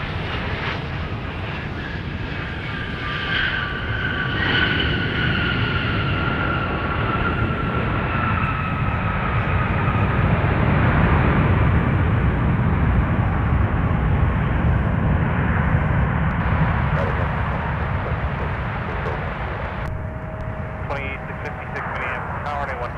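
A Delta airliner from Fort Myers passes at Minneapolis airport with a loud, sustained jet engine roar and whine that swells and slowly fades over about twenty seconds, with faint radio voices underneath.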